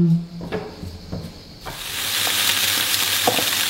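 Sausages, bacon and eggs frying in a pan, a few clinks and bumps at first, then a steady broadband sizzle swelling up and holding loud and close.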